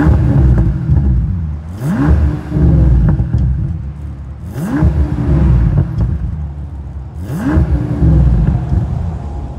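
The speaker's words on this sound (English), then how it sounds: "This is Bentley's 6-liter twin turbocharged W12 engine, mated to an 8-speed automatic transmission." A 2024 Bentley Continental GT Speed's 6-liter twin-turbo W12 revs three times under a steady idle, each quick blip rising and falling, heard close and loud with no voices.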